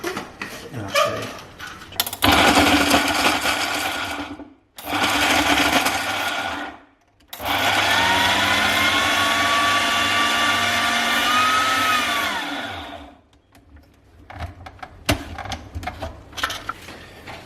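Blender whizzing a block of Parmesan cheese into fine crumbs, loud motor bursts in three runs with short pauses between, the last run long and steady with a rising whine, no talk.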